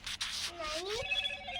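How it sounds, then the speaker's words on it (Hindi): A phone rings with an incoming call from grandmother, its electronic ringtone rising and warbling at a moderate level beneath a voice in a home. "नानी का कॉल आ रहा है।"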